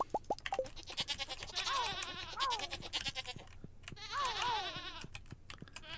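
Goats in a coop in the Stardew Valley game bleat in a few wavering calls, mixed with quick soft clicks and plops of game sounds.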